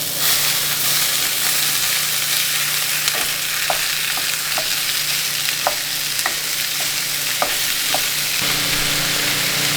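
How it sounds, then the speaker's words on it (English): Oil sizzling steadily in a preheated cast iron pan, a loud continuous hiss with light scattered clicks and taps of utensils throughout, close up and with no voices. "Now that the cast iron is preheated, we're good to go. I'm using some of this oil."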